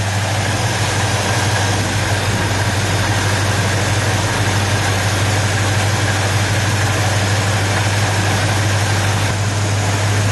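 A 1978 GMC K15 truck engine idles with a steady low hum and even vibration, running alone without any voices.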